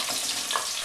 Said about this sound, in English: When it's hot, my skillet is hot now, I put the onions